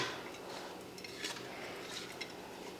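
Roasted gram, peanuts, sesame seeds and coconut are stirred together in a pan, producing faint scraping and light clinks of a spoon against metal at close range.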